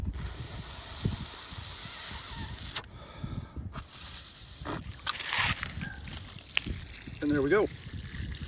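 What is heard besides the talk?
water siphoning from hot tub through hose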